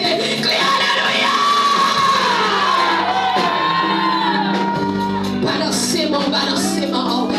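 A church congregation shouting and crying out hallelujah together, a loud continuous wash of raised voices and whoops with one voice rising and falling above the crowd.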